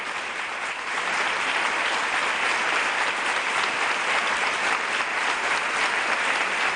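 Workers greet the parliament president with steady, sustained applause from a sizeable group, a dense continuous wash of clapping that holds at an even loud level throughout.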